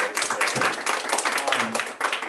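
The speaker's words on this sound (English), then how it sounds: "I want to give a round of applause to all of the admin team and people that are here" Meeting attendees at a school board session give a round of applause, a dense crowd of hands clapping steadily and fairly loudly from start to finish, with no talking over it.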